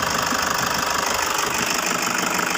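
A Toyota Hiace van's 2KD diesel engine running after a check-engine fault, a steady close, loud rattling idle with a dense, even mechanical clatter throughout.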